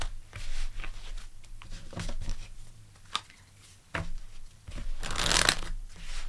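Tarot cards being shuffled and drawn, with soft riffling and papery flicks, a few sharper snaps, and a dense burst of shuffling toward the end, close and fairly loud.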